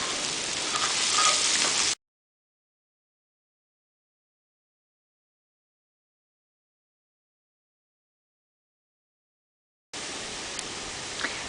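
Sliced mushrooms with a sprinkle of garlic salt sizzle steadily in a hot pan, a dense, even hiss that cuts out abruptly and then returns.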